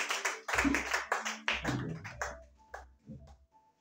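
A church congregation claps for Jesus during a worship service. The sharp, rhythmic hand claps come in bursts, fairly close and loud, with a few voices between them before fading out.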